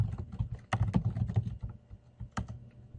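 Computer keyboard typing, close by, in irregular bursts of separate clicks with a few louder key strikes and short pauses between them, and no speech.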